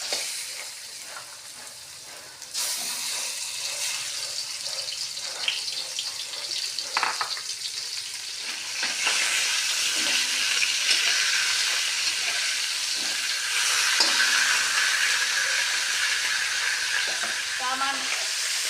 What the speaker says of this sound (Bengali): তো আমি এখন এই রুই মাছের মাথাগুলো একটু ভেজে নেব।